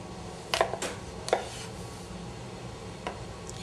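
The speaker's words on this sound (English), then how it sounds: "knife on the potato, a long stroke" A knife slices through a potato on a cutting board, giving a few crisp, close strokes with quiet gaps between them, one double stroke early and a softer cut near the end.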